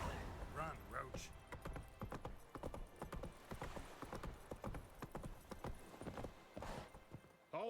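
In The Witcher 3, the horse Roach gallops in a fast, steady beat of close hoof strikes, with a short whinny and voices heard briefly.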